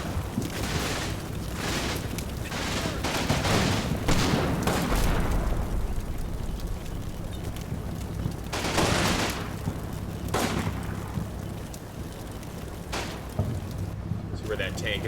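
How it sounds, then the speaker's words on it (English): Mortar and battlefield gunfire from the Combat Mission World War II strategy game, heard as a dense, continuous roar of booms and rapid shots with several louder blasts standing out, steady and loud throughout. "Alright, the mortar's firing away."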